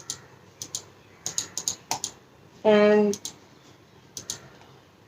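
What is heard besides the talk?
typing on iGear KeyBee wireless retro typewriter-style keyboard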